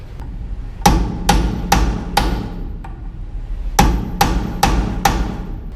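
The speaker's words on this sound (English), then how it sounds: "take a hammer and punch and hammer it down and out" A hammer strikes a punch sharply on metal, driving out a pin on a Zamboni board brush, in two rhythmic sets of four blows with a short pause between. Each hit rings close and loud.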